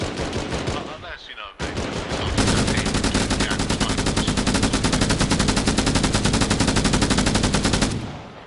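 A machine gun fires in Arma Reforger with Halo mods, first in short bursts, then in one long sustained rapid stream of loud, close shots that stops abruptly, with faint talk underneath.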